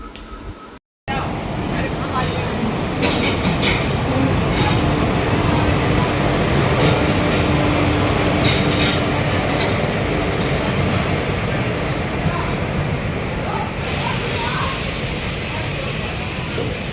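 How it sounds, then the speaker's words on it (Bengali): Passenger train pulling in at a station platform during a journey toward Agra, a loud continuous rumble and rolling roar that holds steady for most of the stretch with occasional higher screeches, people talking faintly underneath. "দেখতে দেখতে 8 ঘন্টা পেরিয়ে গেল, আমাদের ট্রেন এসে পৌঁছে গেছে। এই দেখো আমাদের ট্রেন।"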